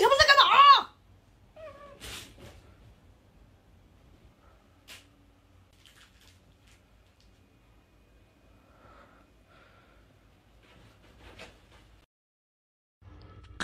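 A plump cat gives a loud, close meow right at the start. Long quiet stretches follow, broken only by faint soft rustles and small knocks, and a louder burst comes at the very end.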